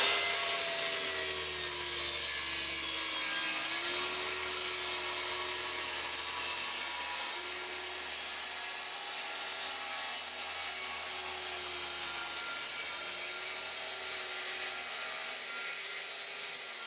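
A depth-set saw blade cuts through OSB sub-flooring laid over joists, a sustained steady whine and rasp running the whole stretch without a break.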